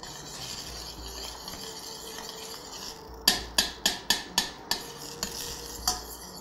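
Melted butter in a pan being stirred for a sauce: a faint low sizzle, then a run of about eight sharp metallic clinks of a spoon against the pan, close by with no voices.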